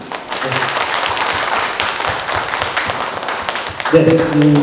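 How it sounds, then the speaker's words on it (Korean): Audience applause fills a library policy concert hall, a steady dense patter of many hands clapping throughout, with a brief sustained tone entering near the end. "소중한 의견 내주신 모든 분들께 큰 박수를 드립니다"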